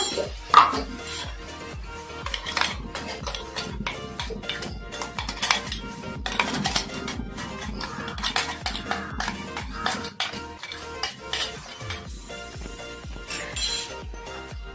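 A spoon stirs blended green chili and coriander paste into a hot tempering in a metal pan while making mandakki. Close, irregular metallic scrapes and clinks repeat steadily at moderate volume, with no one talking.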